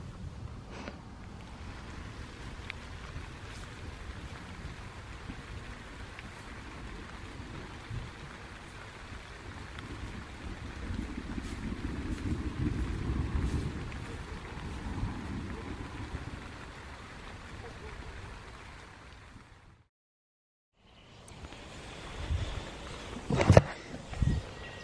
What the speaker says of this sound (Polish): całą noc i cały dzień padało